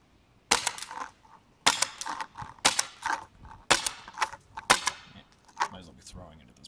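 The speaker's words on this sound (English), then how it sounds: "Might be able to squeeze some more shots out." A PTP MicroMag airgun powered by a 12 gram CO2 cartridge fires about five sharp, close cracks roughly a second apart, each followed by a brief mechanical rattle.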